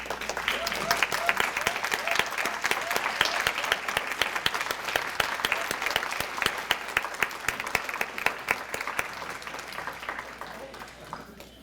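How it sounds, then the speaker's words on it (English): Sustained applause from a seated luncheon crowd honoring veterans and active duty military members at a volunteer awards event, dense steady clapping lasting throughout and tapering slightly at the end. "stand for a round of applause"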